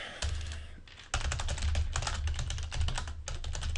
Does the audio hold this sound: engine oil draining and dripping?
no